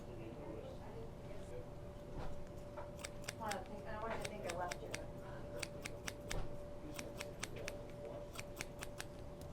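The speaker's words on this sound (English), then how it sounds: "you actually use a special shear to cut this hair because being a nylon, it's stronger than any other hair" Special shears snipping a nylon hair replacement piece in small sections during a haircut, giving a series of crisp, close metallic cuts in irregular bursts, with quiet voice and room noise between them.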